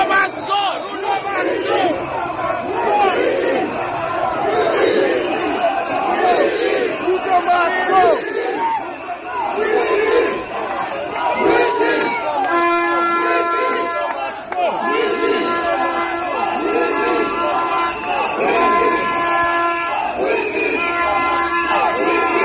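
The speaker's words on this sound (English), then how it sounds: "But after this, the heckling happened." A large rally crowd in Bomet loudly heckles President Ruto, shouting and chanting together in a sustained roar. Voices rise in sung chant-like tones through the second half.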